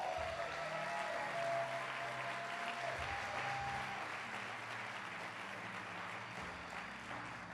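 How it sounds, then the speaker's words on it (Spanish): Church congregation at a Christian sermon giving strong applause, a dense sustained roar of clapping that gradually fades toward the end, with a faint tonal line early on. "Alguien puede darle un fuerte aplauso a Dios por eso."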